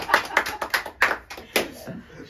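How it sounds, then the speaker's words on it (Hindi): Several people clap in short uneven bursts after a child recites a poem at a family birthday gathering, the claps close and fairly loud with brief gaps between bursts. "बहुत गंदा प्रदर्शन, तालियां होनी चाहिए।"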